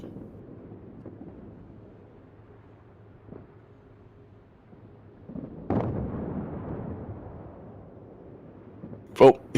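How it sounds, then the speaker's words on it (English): Ship guns fire in World of Warships gameplay. One heavy, booming shot stands out midway through with a rumbling tail, and a sharper crack comes near the end, over steady wind-like ambience and faint talk. "Have you noticed he's got his automated guns firing as well?"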